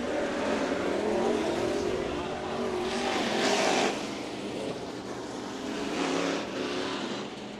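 IMCA Modified race cars roar around the dirt oval at Santa Maria Raceway during The Nationals, engine noise swelling and fading as the pack passes, with an announcer talking over the continuous racing.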